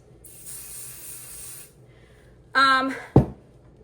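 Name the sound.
basting spray sprayed on embroidery stabilizer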